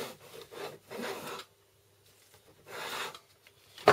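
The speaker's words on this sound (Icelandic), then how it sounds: "Saga þetta niður." A handsaw cuts down through a wooden piece set on a scrap block while building a Sky-40 model aircraft, two bursts of rasping back-and-forth strokes separated by a pause, close and clear with no talk.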